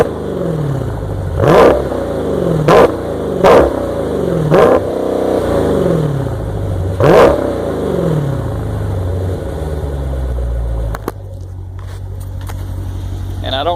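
A Polaris 1000 engine idles loudly and is blipped in a quick series of sharp revs, five or six bursts climbing and dropping in pitch before it settles into a rough, steady idle.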